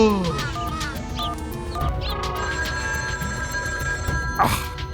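A telephone rings with a bright, melodic electronic tone, repeating over a noisy background.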